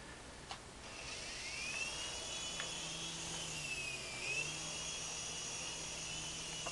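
Small RC helicopter flying indoors, its rotor and motor giving a steady high whine that rises and dips in pitch as the throttle changes, fairly faint and continuous.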